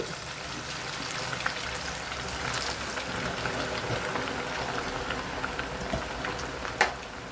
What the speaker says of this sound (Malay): Kita goreng ikan kita.